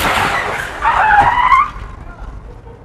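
A car skids at a street intersection during a crash, its tires letting out a loud, drawn-out squeal that rises and then fades away, heard from nearby with no talk over it.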